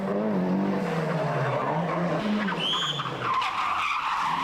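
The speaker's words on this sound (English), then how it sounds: "Another Mazda, this is Frank Monsieur, 15th overall and on the wrong tyres here in the biggest way possible." A Mazda rally car on the wrong tyres during the 1997 Ypres Westhoek Rally in Belgium, skidding with a continuous engine drone and tyre squeal, a brief higher screech midway, fairly loud with no talk.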